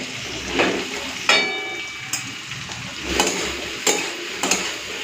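Okra added to a pan of hot oil sizzles while a spatula scrapes and knocks against the pan in a series of sharp, irregular strokes over a soft frying hiss.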